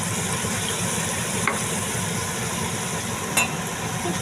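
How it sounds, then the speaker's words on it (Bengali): Spice masala frying in oil for a bhola fish kalia, a steady broadband sizzle running throughout, with two faint brief clicks of stirring; no talk. "মশলাটা কষা হলো, দেখুন মশলাটা কষানো হয়ে গেছে"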